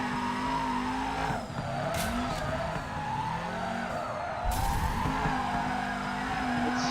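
Simulated car drifting in the FURIDASHI drift video game, with a steady engine drone and sustained tyre squeal running throughout, plus a couple of brief sharper screeches as the car slides.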